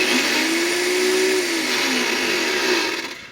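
Portable CNC machine spindle spinning up, a steady high-pitched motor whine with a rising and falling tone that holds for several seconds, then fades out near the end. Nothing else is heard.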